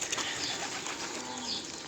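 Pet pigeons coo softly at a distance, making low, faint murmuring calls against a quiet background hiss.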